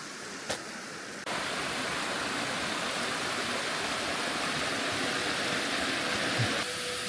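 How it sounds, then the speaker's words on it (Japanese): Steady, loud broadband roar of a large waterfall near Tōgō onsen in the remote mountains of Gifu, a continuous rushing wash of falling water that swells after the first second and holds unbroken, with no voices. "ここはね、かなり大きい滝なんですけど"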